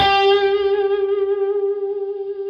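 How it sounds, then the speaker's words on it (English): A sustained electric guitar note rings out with a gentle, steady wavering pitch, bright and clear, fading slightly over a couple of seconds. "So vibrato adds that expressiveness to our playing"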